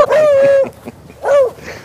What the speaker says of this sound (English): Of course, you gotta have a junkyard dog.